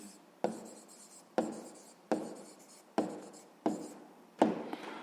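A pen writes on paper during a sixth-grade maths exercise, six distinct strokes starting sharply and trailing off, evenly spaced, close and clear with no talk.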